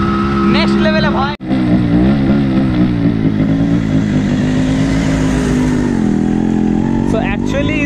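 Modified Yamaha RX100 two-stroke motorcycle converted to a dirt bike, its engine running close and loud with a steady buzzing drone, a brief cut near the start and rising revs toward the end, with someone talking over it.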